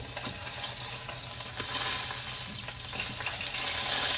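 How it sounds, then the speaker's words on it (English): Steak fat sizzles and crackles steadily in hot oil in a pan, a continuous close frying hiss with occasional stirring scrapes and no talking. "you can hear it actually burning off right there"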